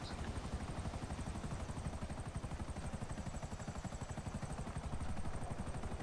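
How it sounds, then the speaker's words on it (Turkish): Helicopter in GTA 5 Online, a steady rapid rotor chop with a constant engine whine, close and continuous for the whole stretch, no talk over it. "Aa bir tane adam da geldi bana helikopterle çarptı"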